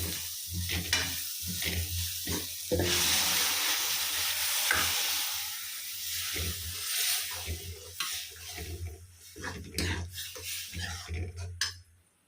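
Tomato puree tipped into a hot pan of spices for an Indian curry, sizzling and frying steadily up close, with a spoon stirring and scraping against the pan throughout.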